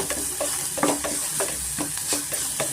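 Green chillies fry in oil alongside onions, a dense close sizzle with rhythmic scrapes of a spatula stirring the pan, loud and steady.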